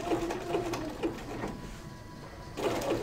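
Sewing machine running zigzag applique stitches on a poppy quilt, a few stitches at a time: a steady mechanical whirring with rhythmic stitch pulses, stopping briefly mid-clip before starting again, close and moderately loud.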